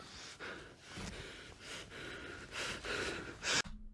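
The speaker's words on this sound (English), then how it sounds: "Listen to the heavy breathing." Loud, heavy breaths come in a steady rhythm of rasping inhales and exhales, close up, ending in a sharp gasp.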